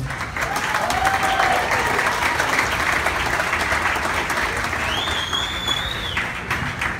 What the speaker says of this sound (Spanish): Pero que se escuche el aplauso.